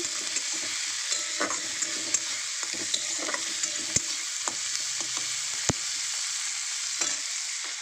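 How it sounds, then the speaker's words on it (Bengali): Chopped capsicum and tomato fry in hot oil with a steady hiss, broken by occasional sharp clinks and scrapes of a utensil stirring the pan, and no one speaking. "এখানে কুচিয়ে নিয়েছি একটু ক্যাপসিকাম, একটা টমেটো, এটাকে একটু তেলে ফ্রাই করে নেব"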